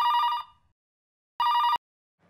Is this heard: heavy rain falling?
no